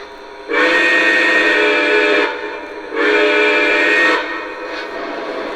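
A Lionel Legacy Union Pacific 4-12-2 #9000 model train gives two long, loud steam whistle blasts close by, each about one and a half seconds long with a brief gap, followed by a faint short toot.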